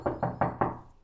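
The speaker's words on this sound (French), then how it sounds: "Il toqua à la porte," Four sharp knocks on a door, evenly spaced and close, each one ringing briefly before the next, with the last fading out.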